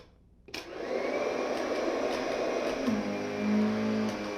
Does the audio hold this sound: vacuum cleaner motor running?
yes